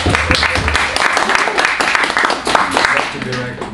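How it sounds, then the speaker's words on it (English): Audience applause for Teacher Karen, head of a TESOL curriculum, at a TESOL practicum gathering in the Philippines: a steady burst of clapping from a room of people, fairly loud, with some voices mixed in underneath. "Let's give her a round of applause"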